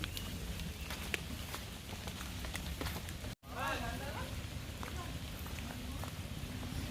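Steady, dense rain pours over a hilly oil palm plantation, a continuous broadband hiss with a momentary dropout midway and faint voices underneath.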